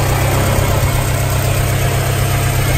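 A right-hand-drive Honda del Sol engine idles steadily just after starting, a loud, even low rumble with a constant pulsing throb and no talking over it.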